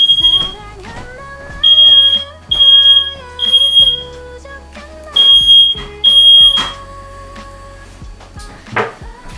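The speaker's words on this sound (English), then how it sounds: "I need to move that smoke detector away from my kitchen." A kitchen smoke detector blares in loud, piercing bursts, about six evenly spaced beeps of roughly half a second each, with clattering and knocking sounds of cupboards or drawers in between.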